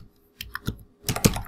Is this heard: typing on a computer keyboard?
yes